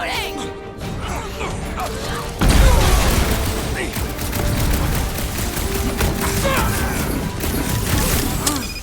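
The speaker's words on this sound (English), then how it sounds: "Keep shooting!" Gunfire in Marvel's Guardians of the Galaxy: dense, rapid shooting and mechanical clatter over a heavy boom, running continuously with raised voices mixed into the battle noise.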